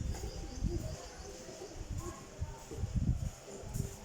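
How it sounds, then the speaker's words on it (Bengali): Pigeons coo softly in a few low, throaty bursts outdoors, mixed with faint rustling while people talk nearby. "পায়রা দেখ বকম বকম পায়রা এই এখন এখানে আছে"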